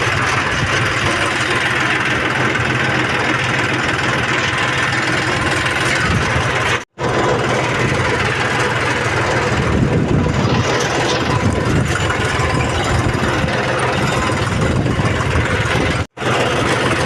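A tractor engine chugs steadily while driving slowly, a loud, continuous low rumble and vibration with two brief dropouts.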